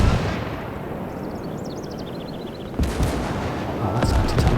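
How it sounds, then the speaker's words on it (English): Big Russian anti-tank gun firing in the WWII strategy game Gates of Hell, with loud booming shots near 2.8 and 4 seconds over a constant rumble of battle noise. "Man, that was that big Russian anti-tank gun."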